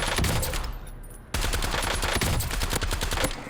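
Rapid automatic gunfire from a blueprint loadout weapon in a first-person shooter video game, loud and continuous bursts with a brief dip near the middle before resuming.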